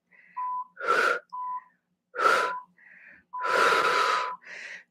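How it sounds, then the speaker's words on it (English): Strong forceful exhales during a HIIT yoga core exercise, a series of sharp breathy bursts alternating with softer tonal whistling breaths, close and separated by silence. "strong exhales as you lift the chest and shoulders."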